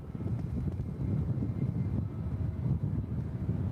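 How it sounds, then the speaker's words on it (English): American Airlines Airbus A321 taking off from runway 18 Left at Dallas Fort Worth, a low, steady distant engine roar with wind buffeting the microphone, no voices. "Cleared for departure on 18 left is American Airlines flight 2459 heading to Los Angeles, LAX. It's an A321."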